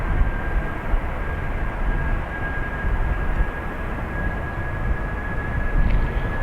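Airplane at Dublin Airport, likely taxiing or departing for Heathrow, giving a loud, steady engine roar with a faint constant whine running throughout, close by and alone.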